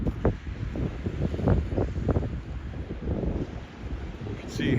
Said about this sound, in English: You can see the wind blowing the snow around there.